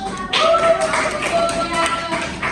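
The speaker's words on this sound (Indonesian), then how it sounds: "Boleh tepuk tangan." Applause from a classroom of children, a steady spread of many small hand claps lasting the whole moment, fairly close and loud with faint voices mixed in.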